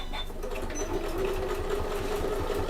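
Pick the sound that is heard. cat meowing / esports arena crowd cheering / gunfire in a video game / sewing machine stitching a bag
sewing machine stitching a bag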